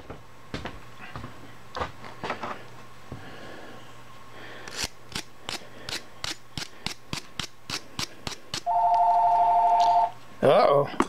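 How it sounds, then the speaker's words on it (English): A telephone in a workshop rings with two electronic tones near the end, following a run of sharp, regularly spaced clicks and taps. "we got the phone ringing"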